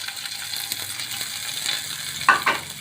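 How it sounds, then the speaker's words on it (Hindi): Green onion fries lightly in a pan with a drop or two of oil, giving a soft, steady sizzle with occasional utensil scrapes and a couple of louder clinks near the end. "इसमें हम ग्रीन ऑनियन को हल्का सा फ्राई करेंगे"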